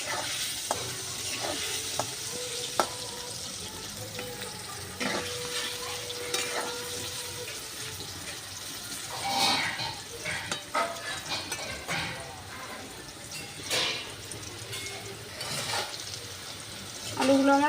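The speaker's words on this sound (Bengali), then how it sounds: "এবার আলুর মধ্যে দিয়ে দেবো আমি হলুদ গুঁড়ো, লবণ, আলুগুলো আমি একটু লাল লাল করে ভেজে নেব।" Potatoes with turmeric and salt frying in a pan, a continuous close sizzle broken by repeated utensil scrapes and light clinks of stirring, with no talk over it.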